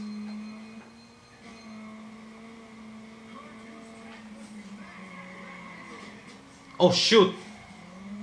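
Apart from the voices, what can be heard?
car skidding and crashing into a tire barrier in Juiced 2 video game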